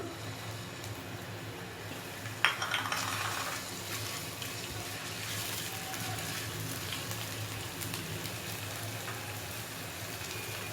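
Ginger garlic paste fries in hot oil in a pan, making a steady close crackling sizzle. A sharp clatter comes early as the paste goes in, and the hiss then carries on evenly without any talk.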